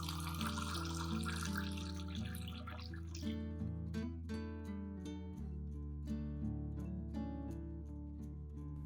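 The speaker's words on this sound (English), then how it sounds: "Add about 1 liter of clean water to dilute the solution" Clean water streams steadily into a rice and oat solution to dilute it, a soft continuous trickle with light drip-like splashes, faint and close.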